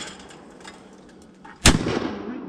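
A single sharp shotgun blast fired at a fast-crossing clay target, loud and close, with a brief echoing tail, after a quiet outdoor stretch.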